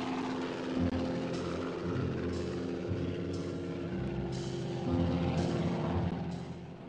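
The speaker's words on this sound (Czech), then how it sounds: "Příští den je při průzkumu vyrušil hluk vrtulníku." A military helicopter's engine runs at low revs on the ground during a 1965 winter reconnaissance exercise. It holds a steady droning hum with a faint rhythmic beat and swells slightly louder toward the end.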